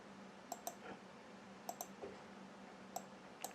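Sharp computer mouse clicks, mostly in quick pairs, spaced across a few seconds at close range in a quiet room with faint background hum.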